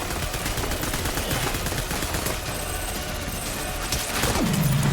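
Rapid, dense gunfire rattles continuously in the video game Death Stranding, loud and close, with a brief descending whine near the end.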